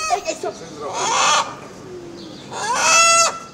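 Chickens cluck and call in short, loud bursts nearby, with a drawn-out crowing-like cry toward the end, heard in an outdoor film-shoot setting.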